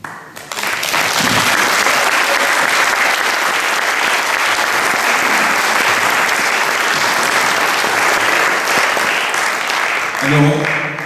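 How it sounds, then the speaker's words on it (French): Sustained audience applause fills a hall at the close of an evening event, dense and steady for about ten seconds before tapering off as a voice begins. "vous venez d'applaudir"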